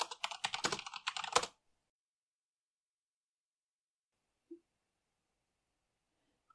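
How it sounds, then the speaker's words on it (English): A burst of rapid keystrokes on a computer keyboard entering a terminal command, close and clicky for about a second and a half, then silence apart from one faint tap. "So type in sudo apt-get update."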